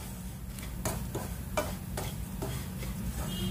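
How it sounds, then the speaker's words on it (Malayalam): Semolina (rava) dry-roasting in a pan for upma, with a dry rustling stir and light crackle, plus several sharp scraping strokes at irregular intervals, close and fairly quiet, with no talking. "റവ ചേർത്തിട്ട് ഒന്ന് വറുക്കുക."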